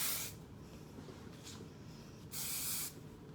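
Two short hisses of hairspray from an aerosol can while styling curled hair, one at the start and a longer one later, close and fairly quiet against a soft background.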